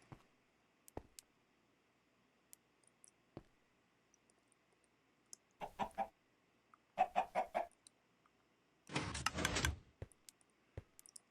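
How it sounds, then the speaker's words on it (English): Blocky video-game chickens in a farm contraption give sharp clucking squawks in three separate bursts, then a louder harsh flurry, with sparse clicks between them against a quiet background. "I don't know why that chicken just took damage"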